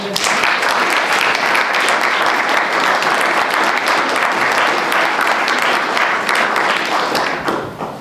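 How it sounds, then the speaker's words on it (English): A town council audience breaks into sustained, loud applause, dense clapping filling the room steadily before tapering slightly at the end. "Let's give a round of applause to our moderator."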